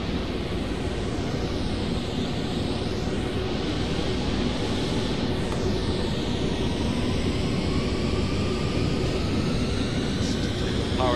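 Jet engines of a Boeing 737NG spool up to takeoff power in a flight simulator cockpit, a steady loud roar of broadband noise with a faint rising whine across the whole stretch.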